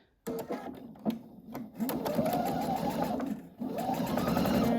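A sewing machine stitches a quilt block seam in a steady, close whir that runs almost continuously, with brief pauses and small clicks at the start and midway.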